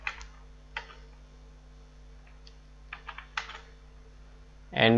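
Keystrokes on a computer keyboard while text is entered, a few scattered soft clicks spread across the stretch rather than a steady run, faint and close, with a louder burst of sound right at the end.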